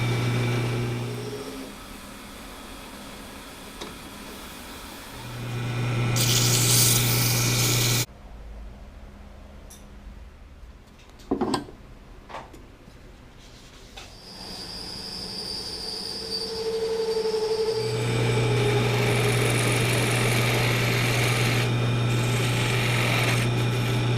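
A wood lathe spins padauk with a steady high whine and hum, cutting out for a quiet stretch with a few sharp knocks before spinning back up into a loud, continuous tone.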